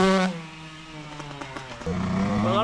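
A motocross motorcycle revs and accelerates nearby, its engine note rising and falling in a few bursts before climbing steadily toward the end.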